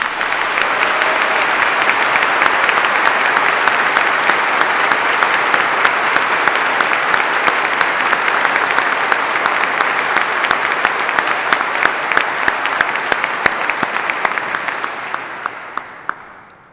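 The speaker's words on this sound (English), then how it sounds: "Please join me in thanking the faculty with a round of applause." A large audience at a university commencement ceremony claps for retiring faculty. The loud, dense applause is sustained for over fifteen seconds, then thins out and fades away at the end.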